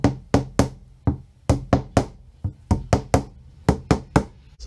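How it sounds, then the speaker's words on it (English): A hammer taps plastic wall plugs into pre-drilled holes in a wall to mount a floating shelf, with a rapid series of sharp, close knocks in irregular clusters, about fourteen strikes with no talking. "Now just grab your hammer and just tap them in."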